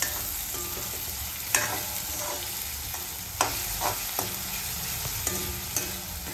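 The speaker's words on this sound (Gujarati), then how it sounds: "તો આપણે આને કાંદાને ચડવા દઈશું થોડી વાર." Chopped onions sauté in a pan for dal fry, giving a continuous close sizzle broken by several sharp clinks and scrapes from stirring, with no voices.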